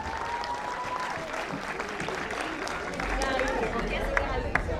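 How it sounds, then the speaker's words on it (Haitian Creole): An audience claps steadily for Gary throughout, a dense, even wash of applause that swells a little louder toward the end, with faint crowd voices mixed in. "Applaudissez Gary pour moi, s'il vous plaît."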